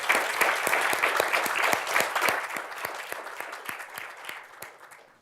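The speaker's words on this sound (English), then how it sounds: "So big round of applause." Audience applause at a university Three Minute Thesis closing ceremony, dense clapping from a crowd with distinct sharp claps standing out, loud at first then gradually thinning and fading over several seconds.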